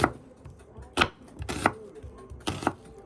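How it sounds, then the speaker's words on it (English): A knife chopping an onion on a cutting board, four or five crisp, uneven chops close by, with quiet pauses between them and nobody talking. "So we're cutting our onion up for our salmon"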